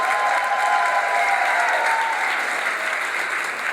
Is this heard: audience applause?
yes